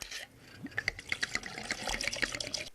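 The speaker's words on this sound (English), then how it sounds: "I'm gonna need to pour myself a little more wine" Wine is poured into a glass. A soft, close liquid trickle with a few small glugs and bright clinking splashes comes in quiet, uneven bursts.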